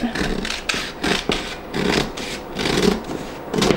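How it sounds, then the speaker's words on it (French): Scissors cut away excess fabric on a sewing project for a bag, making repeated close rasping snips in an even rhythm of about two per second, with no voices. "Je découpe tout mon surplus."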